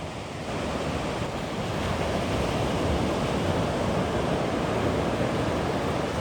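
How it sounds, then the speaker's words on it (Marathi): Sea waves and cold wind on a quiet morning beach on the Konkan coast, a steady, loud wash of surf mixed with rushing wind buffeting the microphone, continuous and unbroken with no voices. "समुद्र निसर्ग थंड वारा पक्ष्यांचा आवाज अशा वातावरणात वॉकिंग करताना मन अगदी प्रसन्न होऊन जाते"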